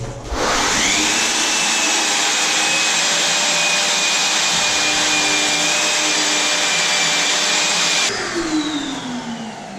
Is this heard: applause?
no